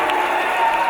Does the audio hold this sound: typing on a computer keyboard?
no